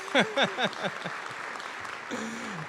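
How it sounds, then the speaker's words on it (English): A congregation at a church memorial service applauds a piano performance, a steady wash of clapping that follows a short burst of voice at the start. "One round of applause to Laura Botte on the piano."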